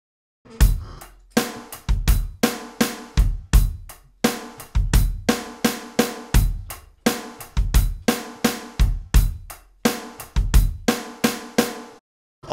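The drum groove from a well-known song played solo on a kit, steady repeating kick, snare and hi-hat pattern, crisp and close with no other instruments or voices.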